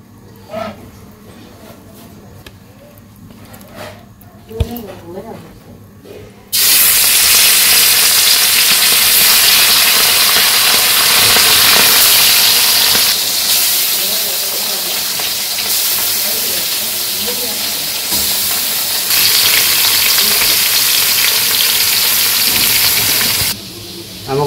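Spiced fish, rubbed with salt, dried chilli and turmeric, frying in oil in a wok for a village-style fish curry. After quiet clatter, a loud, steady hissing sizzle starts and carries on for most of the clip.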